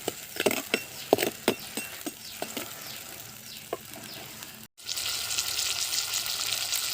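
Onions and tomatoes sautéing for a goat head gravy cooked outdoors in a primitive setting: a close, steady sizzle with scattered knocks and clinks of a utensil stirring in the pan, then a brief cut into a louder, denser frying hiss.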